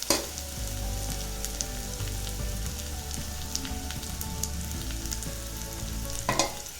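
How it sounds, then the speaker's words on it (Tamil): Urad dal and a handful of curry leaves frying in hot oil for kozhukattai filling, a dense continuous sizzle with faint spits and stirring, close and even in level, no voices. "எண்ணெயில் போட்டுட்டு இந்த கருவேப்பிலை 5-6 கிள்ளி வச்சுருக்கேன், அதையும் போட்டுக்கலாம்."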